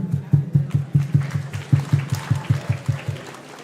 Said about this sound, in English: And another big round of applause for our generous sponsors.